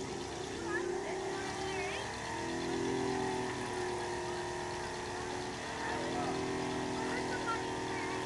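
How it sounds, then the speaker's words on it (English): A 2004 Mach 1 drag racing car revs its engine at the strip, a fairly distant, droning engine note rising and falling under nearby spectators' voices. "Why is he revving so early?"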